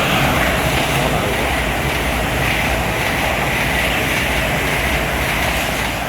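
A double-set train passes Welham Green station on the East Coast Main Line as a steady, loud, close rumble with rail noise, holding at full strength throughout without any talking.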